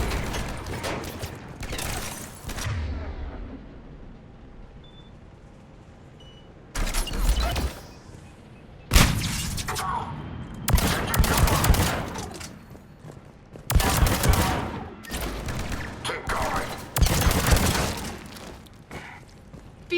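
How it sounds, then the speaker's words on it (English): Gunfire in the sci-fi shooter Mass Effect 3 comes in repeated bursts of rapid automatic shots with sharp impacts and clanks, separated by short quieter gaps. "Good. Open fire."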